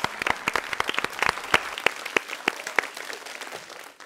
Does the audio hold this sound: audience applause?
yes